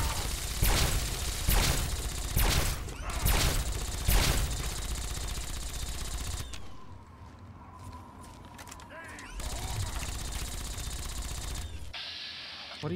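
Gunfire in Fallout 3 comes as several loud, heavy shots in a rapid cluster, then a quieter stretch and a later burst, with people talking over it.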